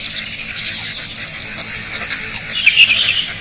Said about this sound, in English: The first amphibians to claim the forest ponds are frogs.